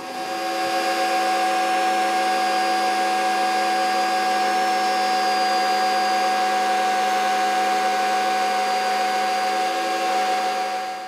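A router table whines continuously at a steady high pitch while trimming a guitar build, loud and close, holding unchanged for the whole stretch.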